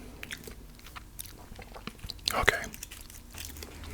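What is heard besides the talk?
biting and chewing a chocolate bunny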